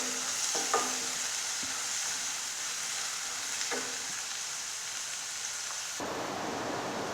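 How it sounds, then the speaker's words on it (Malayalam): Shallots, onion, ginger, garlic and green chilli frying in a pan, a constant bright sizzle with a few scraping stirs of the spoon near the start and middle. "അപ്പോൾ ഇത് നല്ലപോലെ നമുക്കിനി ഒന്ന് റോസ്റ്റ് ചെയ്തെടുക്കാം."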